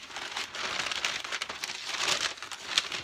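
Packing paper crinkles and rustles steadily as a mailed parcel of Marvel X-Men collectables is unwrapped, a close, continuous crackling with no talk.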